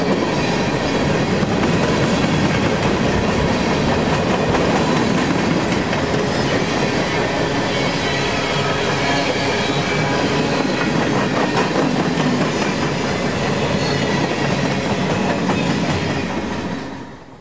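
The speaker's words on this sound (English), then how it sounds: "is a daily manifest originating out of Cumberland, Maryland, bound for Clearing Yard in Chicago" A daily freight manifest train out of Cumberland, Maryland, bound for Chicago rolls past close by on the Pittsburgh Line, a loud, unbroken roar of wheels and rail clatter that fades only at the very end.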